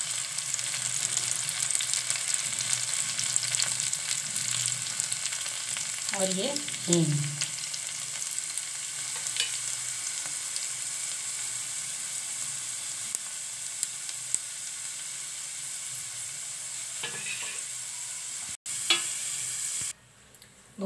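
Cumin, garlic, onion and red chili frying in oil in a pan for a tempering, a steady close sizzle with a few stirring clatters, and a voice speaking briefly over it.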